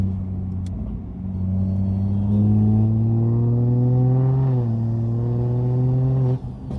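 A rebuilt BMW car accelerates hard in third gear, its loud engine drone rising steadily in pitch for several seconds, with a brief dip midway before climbing again and cutting off abruptly near the end.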